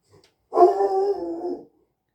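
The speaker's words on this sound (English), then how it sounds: "Oh, you can hear the dog in the background." A single dog lets out one drawn-out, whining bark close by, just over a second long, with no voices around it.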